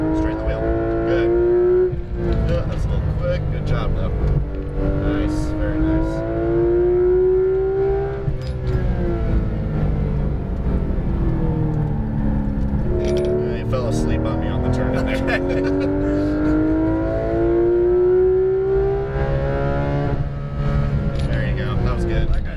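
On-board a Porsche 991 GT3 RS on a race track, the flat engine screams and climbs through rising and falling revs across several gear changes, loud and continuous, with an instructor's voice talking over it.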